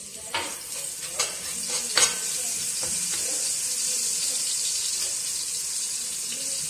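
Eight garlic cloves with homemade seasoning and salt fry in a modest amount of oil in a pot, a steady bright sizzle with a few sharp clinks of a utensil early on.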